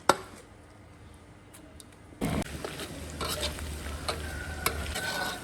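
Dried chilies, doubanjiang bean paste and plenty of Sichuan peppercorns stir-fry in a large wok, quiet at first, then a sudden loud sizzle with scraping stirs and spatula clinks continuing steadily.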